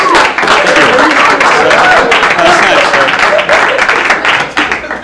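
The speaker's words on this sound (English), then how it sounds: "you guys are laughing and applauding at that" Studio audience applauding and cheering at a 1985 comedy radio show after a game-show impression, a dense sustained wash of clapping that tapers near the end, with voices mixed in.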